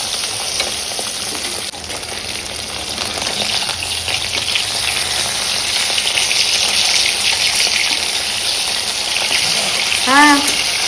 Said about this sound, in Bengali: এই মাছ ভেজে মশলা দিয়ে